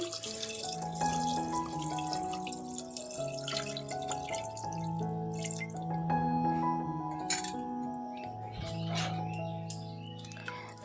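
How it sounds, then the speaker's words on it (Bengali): Water pours into a cooking pot with a light, steady splashing and trickling beneath prominent background music throughout. "এখন তো এখন আমি এখানে দিয়ে দেব পরিমাণ মতো জল"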